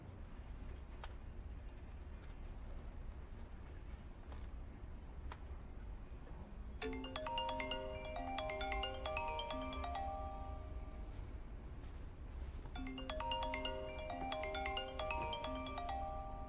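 A phone ringtone plays a repeating chiming melody in two bursts, rising over a quiet room hum and pausing briefly between them, with no talk.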